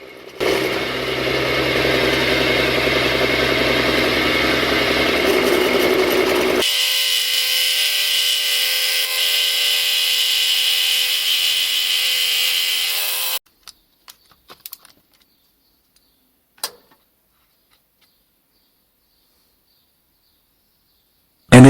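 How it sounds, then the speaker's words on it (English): Machine milling of a flat on a lathe internal grooving cutter, a loud continuous buzzing drone that shifts in tone midway, then cuts off abruptly, followed by a few scattered clicks and knocks. "The cutter is flipped around and the previous cut is used as a reference to mill a flat parallel to it"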